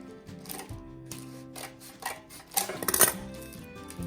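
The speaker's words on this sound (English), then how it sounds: "We're going to go to the middle of our pan, and we're going to cut." A utensil cuts through cheesecake in a pan, with light metallic scrapes and clinks that build into a louder cluster of knocks and rasps near the end, close up and without talk.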